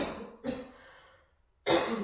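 A woman with a lingering cough after COVID coughs twice during an exercise class, with short, harsh bursts close to the microphone and a quiet gap between them.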